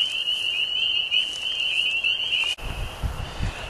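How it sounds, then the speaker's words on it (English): Spring peeper frogs call from grass in a dense, loud, continuous high-pitched chorus of overlapping peeps at close range, with a brief rustle partway through and no talking. "we've got peepers by the dozen, maybe less than that. But see, beautiful little frogs."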